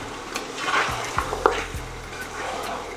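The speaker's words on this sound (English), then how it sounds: "Now in with your mutton or lamb." Mutton or lamb added to a pot with toasted spices and stock, frying with a steady sizzle while a spoon stirs and knocks against the pot in irregular clanks.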